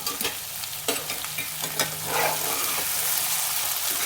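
Cluster bean curry fries and is stirred in oil in a pan, giving a steady, close sizzle with clicks and scrapes of the spoon, louder in the second half. No voices are heard.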